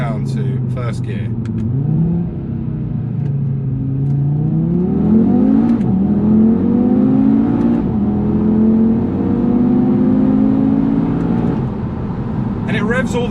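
A 2019 Audi TT RS with a 2.5-litre five-cylinder engine revs hard in first gear, the pitch sweeping up and holding high near the redline before dropping away, loud and close.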